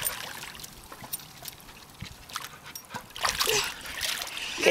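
A child swims toward the step of a pool, with soft splashing and trickling water that builds into louder sloshing splashes near the end. The splashing is close, and there is no clear talking.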